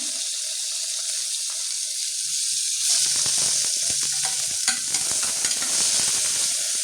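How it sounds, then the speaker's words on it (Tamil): Tomatoes sauté with onions in a pan for vegetable kurma, a soft sizzle that turns busier after a few seconds as a spoon stirs and scrapes through it. "தக்காளி நல்லா வதங்கிட்டு இருக்கு"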